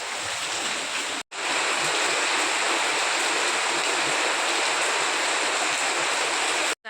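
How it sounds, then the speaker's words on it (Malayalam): Heavy rain pours down outside in a dense, loud, steady roar that runs almost without pause, cut only by two brief dropouts. "ഇപ്പോൾ വീണ്ടും തുടങ്ങിയേക്കാണ് മഴ."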